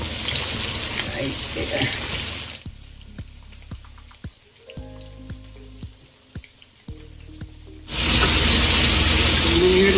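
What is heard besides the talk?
steak frying and sizzling in a pan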